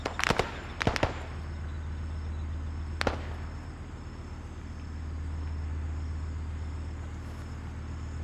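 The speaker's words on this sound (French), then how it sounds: "J'ai mis une grenade là." A grenade blast in the ArmA 3 military game, a sharp explosive crack followed by a second burst and a later single bang, each trailing into a low rumbling ambient hum of the battlefield.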